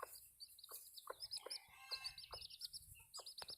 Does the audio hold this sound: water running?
no